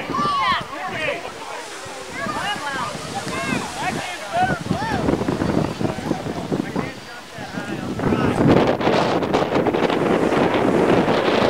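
Strong wind from a passing cold front blasts across the microphone outdoors, a loud continuous roar that swells heavier in the last few seconds, with a person talking under it early on.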